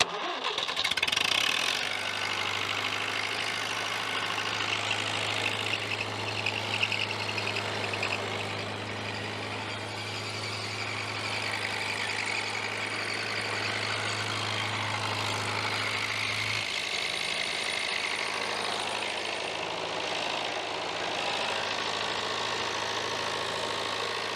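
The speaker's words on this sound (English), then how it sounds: "We'll now turn the tractor on and see if I get any leaks from any of these." A David Brown 990 tractor engine cranks and catches, then settles into a steady, loud diesel idle with a low drone that holds throughout, its pitch shifting slightly late on.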